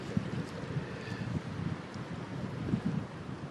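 Wind blowing outdoors, a steady low rumbling gust buffeting the microphone with a broad hiss, continuous and fairly loud throughout.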